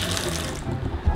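Strong water gushes from a tap in a cheap motel bathroom, a close, steady rushing stream into the basin throughout the short moment, with no voices.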